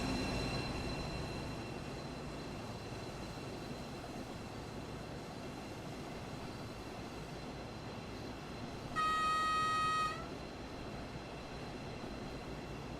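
A BR 218 diesel locomotive running in the Train Sim World 4 game, a steady low rumble throughout with a brief sustained horn-like tone partway through, no talking.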